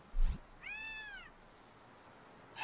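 A cat in Gravity Rush gives one clear, drawn-out meow after a short thump, close and distinct against a quiet game background with no talk.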